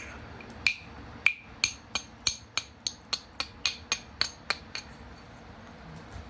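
A hammer strikes in direct percussion to bevel an edge, about fifteen sharp, ringing taps in a steady, even rhythm that ends in a short trailing pause, close and clear with no talk.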